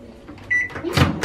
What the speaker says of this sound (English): Put it in the microwave because it was a little bit cold.